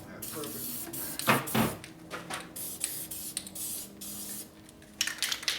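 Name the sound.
spray paint can spraying to clear solvent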